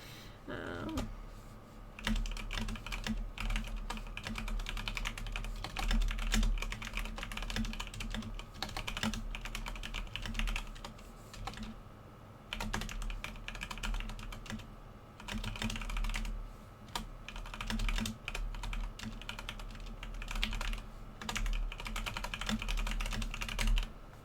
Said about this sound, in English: Sometimes my fingers just start typing entirely their own thing